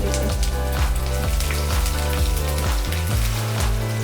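Garlic sizzles in hot mustard oil with mustard seeds and cumin, a steady, dense crackle like rain on a surface, continuous and close with no voices.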